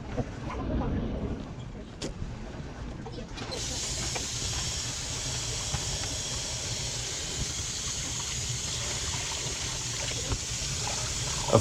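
Tap water runs steadily while fresh-trimmed asparagus spears are rinsed clean in a kitchen, a continuous hissing stream that grows stronger after a few seconds and holds at an even level.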